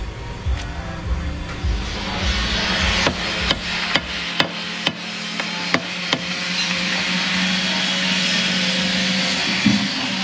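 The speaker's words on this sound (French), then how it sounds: "je vais la gratter à la perceuse, à la ponceuse" Steady grinding whir of a drill sander held against a boat hull, with a series of sharp knocks in the middle and a rougher, louder stretch toward the end.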